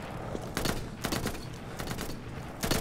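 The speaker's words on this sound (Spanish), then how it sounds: "Voy a ir para acá, tío, porque aquí había unos tiros o qué." Rapid bursts of gunfire in the video game Insurgency crackle in quick volleys, some louder and nearer, others fainter, with short gaps between.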